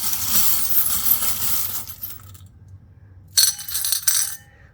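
Small metal charms clink and rattle as they are poured and dropped onto a surface for a card reading, first a long jingling spill, then a pause, then a couple of short bright clatters.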